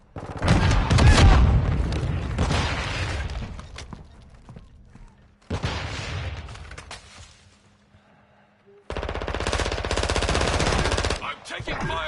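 Gunfire in Call of Duty MW3 on PS5, with loud bursts of automatic fire in three separated stretches and near-silent gaps between them, rapid and dense.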